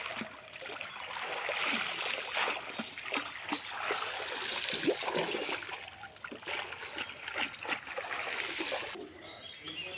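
Running water splashes and trickles steadily over fish greens being rinsed by hand outdoors, a continuous close wash with small bursts of splatter and faint birds in the background.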